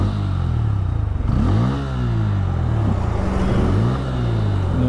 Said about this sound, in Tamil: ஐடலிங் வந்து பார்த்தீங்கன்னா உங்களுக்கு 1500 RPM to 1000 ஏறி இறங்குதா